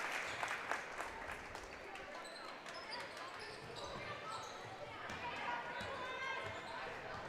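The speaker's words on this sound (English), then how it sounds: "As Drager gets a nice round of applause." Applause from the crowd in a gym at a Perham vs. Wadena-Deer Creek girls basketball game, a steady moderate clatter of clapping that carries the whole time, with shoe squeaks and a basketball bouncing mixed in.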